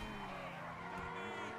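A Dewbauchee Champion sports car in GTA 5 drives hard and skids, its tires squealing steadily over the engine's tonal hum for the whole short stretch, loud and continuous.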